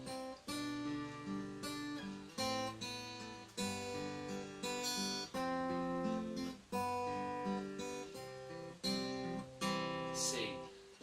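An acoustic guitar strums the chord progression of a song in even, repeated strokes, each chord ringing clearly before the next, played quietly and alone.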